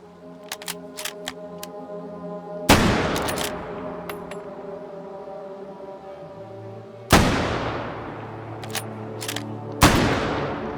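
Guns in the VR shooter H3VR fire three heavy single shots that ring and decay slowly, between quieter mechanical clicks and handling clatter from reloading.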